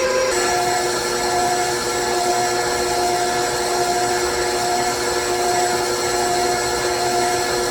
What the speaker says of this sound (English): turn my mixer down